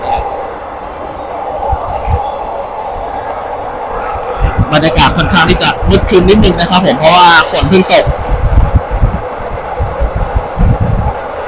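An ordinary passenger train climbs onto an elevated railway after rain, its rumble and clattering wheels swelling loudly in the middle before easing off, while someone talks throughout.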